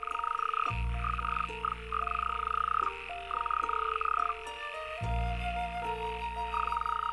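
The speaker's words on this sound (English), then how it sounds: "They will spend 1 or 2 weeks croaking, waiting for a continuous line of females to approach their noisy pond" A loud, dense chorus of male toads croaking together at a pond, with overlapping pulsing calls and steady trills rising and falling, close by and continuous throughout.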